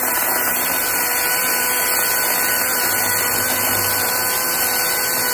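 A battery chainsaw cutting wood runs continuously with a steady, high electric whine and a constant buzzing hiss, close and fairly loud.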